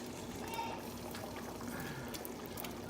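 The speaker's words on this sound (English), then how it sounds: "And we're gonna dump all that in the broth." Uncooked cod, scallops and shrimp are tipped into a pot of cioppino broth, giving a steady wet pouring and splashing wash that stays even and moderately loud throughout.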